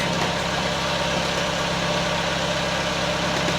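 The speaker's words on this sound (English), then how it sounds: "We just put the engine back on because the wind that we forecasted was non-existent." A sailboat's engine runs steadily at sea with no wind, a continuous loud, even drone with a low throb, with no one talking.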